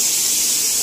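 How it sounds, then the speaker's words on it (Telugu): A steady, loud high-pitched hissing whistle of steam, continuous throughout with no pauses, like a pressure cooker venting. "మా కుక్కర్ అయితే అరుస్తుంది"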